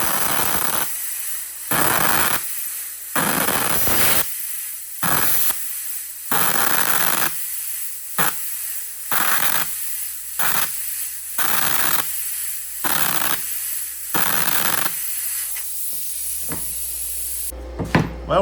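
A MIG welder running off a car amplifier at only about 35 amps, cutting quarter-inch material, gives repeated bursts of harsh crackling hiss lasting one to two seconds each, broken by short silences, close and loud.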